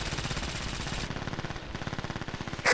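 Rapid automatic gunfire in an online multiplayer shooter game, a dense, continuous rattle of shots that briefly shifts tone midway and ends in a sharp louder burst.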